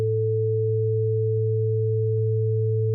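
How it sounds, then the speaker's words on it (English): Two steady pure test tones, one low at 110 Hz and one higher at 440 Hz, hum together without change, with faint periodic clicks. "Now I'm going to start bringing up the 110 Hz tone, a little louder."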